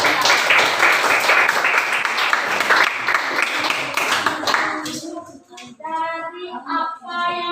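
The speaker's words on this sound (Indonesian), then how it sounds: "Sekarang, tepuk tangan buat teman-teman." Students in a classroom clap together for their classmates, a dense burst of many hands lasting several seconds before it breaks off. Voices and brief talk follow the clapping.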